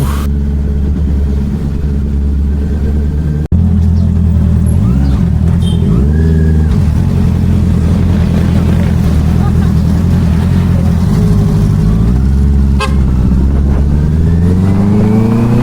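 Motorcycle engine on the road during a blessing ride, steady mid-pitched drone with rising and falling revs, close and loud with a sharp jolt early on.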